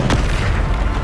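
A Bombarda explosion spell in Hogwarts Legacy lands as one loud, dense boom that fills the short moment with rumbling noise.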